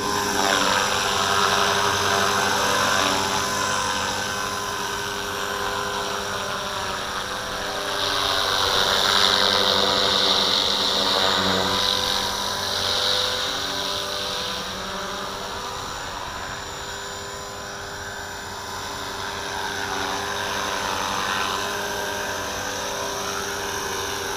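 A small engine whines steadily for a long stretch, its pitch rising and falling as a model helicopter hovers and maneuvers nearby.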